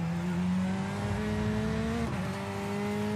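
A Corvette C8 GTE race car in iRacing holds a loud, steady engine drone that rises in pitch, then drops sharply at a gear shift and climbs again, close and alone.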